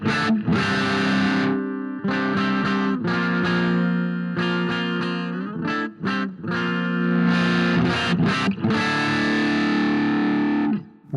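Fuzz-driven electric guitar riffs, thick and saturated, played in loud bursts with brief gaps between phrases, sustained chords ringing with heavy distortion across the whole clip and no talking.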